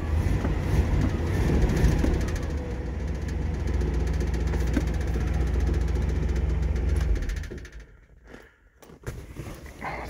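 A 1968 Ford Galaxie XL convertible engine runs at a steady, loud, rumbling idle near the listener, then cuts off abruptly about two-thirds of the way through, leaving quieter handling noises.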